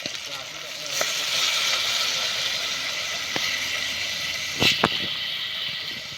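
Water poured into a hot pan of village-style gavthi chicken curry cooking outdoors under a lemon tree, a steady close sizzle and hiss with a few sharp clatters and a brief louder burst near the end.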